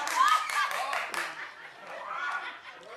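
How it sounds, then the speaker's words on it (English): A talk-show studio audience claps briefly and sparsely at first, then the sound thins into scattered chuckles and murmurs with the host's voice over it. "Only clap if you watched."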